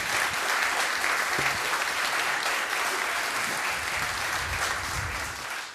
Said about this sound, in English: All right, I'll live with the fact that you're clapping somebody else's words.